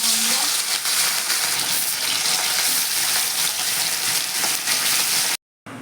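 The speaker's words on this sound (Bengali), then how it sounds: "এবার আমি মাছটা ভেজে নেব মাছগুলোকে ভেজে নিচ্ছি" Rohu fish frying in hot mustard oil in a wok makes a loud, dense, steady sizzle with fine crackling, broken by a brief silent gap near the end.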